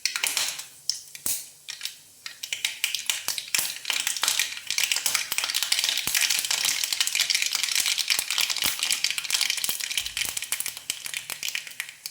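Mustard seeds popping and crackling in hot coconut oil, a dense run of sharp spattering clicks over a steady sizzle, close and continuous with no talking.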